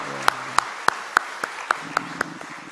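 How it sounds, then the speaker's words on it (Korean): Sharp, evenly spaced claps ring out one after another, about nine distinct hand claps in a steady rhythm from a congregation at a Sunday church service, over a faint background hum. "하나님께 영광의 박수 드리겠습니다"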